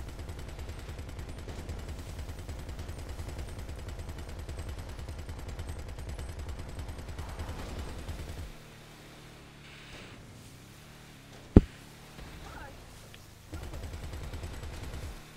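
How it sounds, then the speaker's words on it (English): Automatic gunfire from a powerful weapon in the GTA 5 video game, a dense steady rattle of rapid shots for about eight seconds, then quieter ambience broken by a single sharp blast and a return of the firing near the end. "So, the gun is very powerful."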